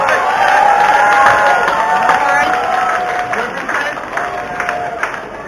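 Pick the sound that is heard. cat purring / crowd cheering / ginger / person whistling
crowd cheering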